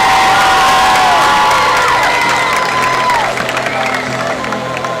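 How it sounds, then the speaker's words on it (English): A large crowd at a high school football homecoming cheers, whoops and applauds for the homecoming queen, loud and sustained, with shouting voices rising over the clapping and a tonal sound sliding across the top. "Please welcome her with a round of applause."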